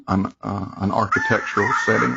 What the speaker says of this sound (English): That was my phone. I do apologize.